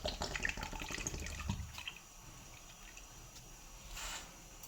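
Ajwain (omam) water poured from a cup into a pan of spice powders, a short liquid splash and gush in the opening seconds that fades into quiet kitchen background.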